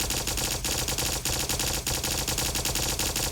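Institute Plasma Incinerator in Fallout 4 firing on full auto, a loud, continuous rapid stream of crackling plasma shots with brief gaps every half second or so.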